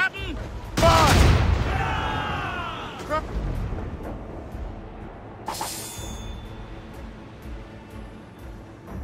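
Ship cannons in Assassin's Creed Rogue fire a loud volley of booming blasts, followed by rumbling echoes and a few scattered later shots amid shouting voices.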